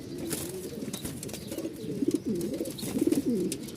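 A pair of pet pigeons coo softly and close by, in repeated throaty bursts over a light background hiss.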